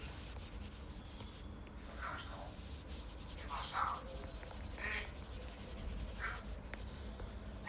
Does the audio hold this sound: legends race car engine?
no